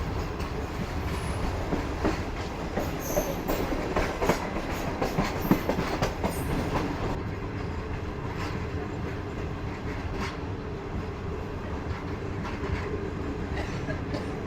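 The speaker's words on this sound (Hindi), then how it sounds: "फाइनली ट्रेन हमारी 4:40 पर स्किप करने जा रही है टंडो वाला यार रेलवे स्टेशन को" A passenger train rolls through Tando railway station at modest speed, heard from on board as a continuous rumble with rhythmic clickety-clack of wheels over rail joints and occasional sharper knocks, steady and fairly loud throughout.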